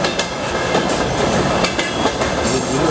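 Passenger train racing alongside a freight train, heard from inside a carriage window: dense continuous rumble with sharp rhythmic clicks of wheels crossing rail joints and faint squeals, loud and close, no talk.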